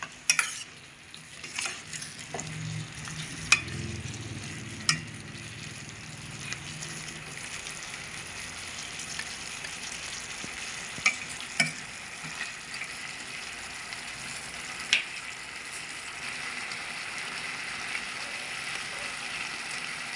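Chicken adobo with liver sautés in a pan, a low steady sizzle broken by scattered sharp clinks and scrapes of a utensil stirring against the metal.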